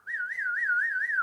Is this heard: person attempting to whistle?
yes